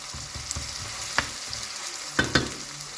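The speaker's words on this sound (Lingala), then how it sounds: "tobwaki matungulu na mafuta" Onions frying in hot oil give a steady close sizzle, with a few sharp clatters of stirring or a spoon hitting the pot and no talk.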